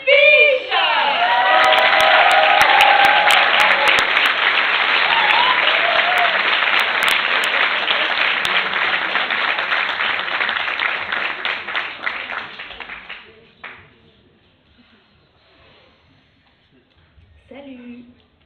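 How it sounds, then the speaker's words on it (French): Thunderous audience applause with cheers and whoops greets a stand-up performer, loud and sustained for about twelve seconds before fading away into near silence. "s'il vous plaît, un tonnerre d'applaudissements pour Marianne Fischer."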